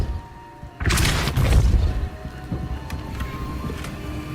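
A Depulso spell in the video game Hogwarts Legacy blasts rocks apart with a sudden loud booming crash, followed by a rumbling, crumbling tail that fades over a few seconds.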